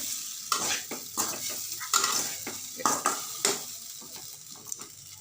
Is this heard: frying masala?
yes